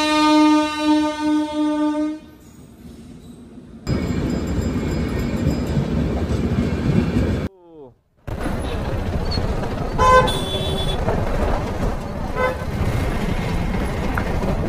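Loud sustained train horn blast near a highway road crossing, followed by the heavy rumble of a passing train and traffic noise, with more horn toots and a brief break in the middle.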